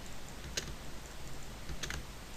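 Keys on a computer keyboard are tapped, a few sharp isolated clicks spaced apart over a quiet background hiss.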